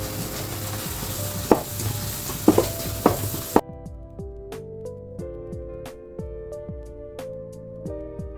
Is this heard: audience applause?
no